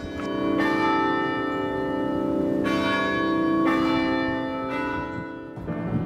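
Church-style tower bells at UNC ring out in a slow sequence of bright, sustained strikes, each tone overlapping the long ringing decay of the last, clear and alone.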